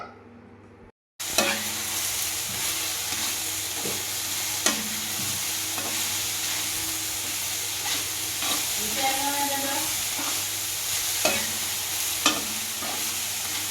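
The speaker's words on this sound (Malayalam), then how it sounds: "നെയ്യിൽ തന്നെ വറുക്കണം നല്ലപോലെ വറുത്തെടുത്തിട്ട്" Food sizzles steadily in hot ghee, a constant crackling hiss broken by occasional clinks and scrapes of stirring.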